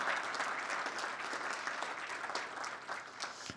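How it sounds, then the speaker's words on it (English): Sustained applause from a crowd at an Operation Warp Speed summit, steady clapping filling the room for several seconds without speech. "how about another round of applause for the governors that you heard from today?"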